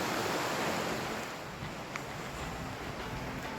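Kings Creek in Lassen Park, Northern California, flows with a steady broadband rush of moving water, continuous and fairly soft, with no voices.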